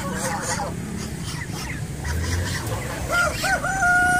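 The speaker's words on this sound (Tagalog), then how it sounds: "Native chicken." A rooster crows near the end amid clucking chickens and general poultry noise, with people talking in the background.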